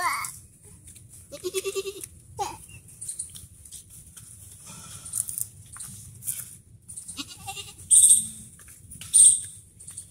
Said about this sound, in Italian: Ti piace la capra?